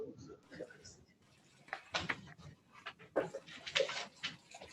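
A dog in a room whimpers and gives a few short barks, fairly faint and intermittent, mixed with indoor clatter while a person talks nearby.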